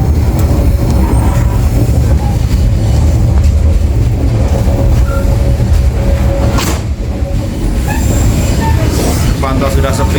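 Train pulling into Surabaya Kota station in Indonesia, a loud, steady rumble of rail cars with metallic wheel squeal and clatter throughout, and people talking faintly nearby.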